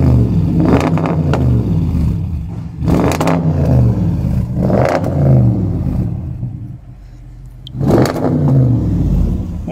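A 2021 Rolls-Royce Ghost is revved while standing still. Its engine rises in three or four strong throttle blips over a low idle, with smooth rumbling swells and pauses between them, heard close and loud.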